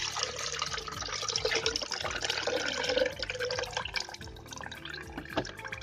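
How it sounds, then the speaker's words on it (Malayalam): Papaya leaf liquid for a homemade pesticide is poured through an old sieve, trickling and dripping steadily into a container nearby. "അപ്പോൾ ഇത് നമുക്കൊന്ന് അരിച്ചു കൊടുക്കാം. ഈ വെള്ളം പഴയ അരിപ്പയാണ്."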